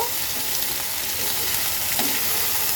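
Crab claws and potatoes fry with onion in a hot pan, a loud, continuous sizzle with occasional stirring scrapes, close and steady, with no talk.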